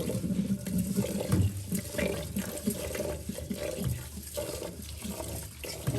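Water runs steadily from a tap while rice and lentils are rinsed and set to soak, with some clatter and movement close by.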